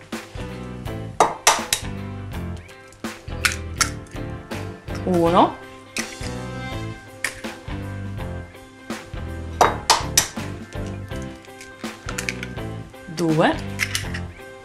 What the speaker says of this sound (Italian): E rompo 3 uova.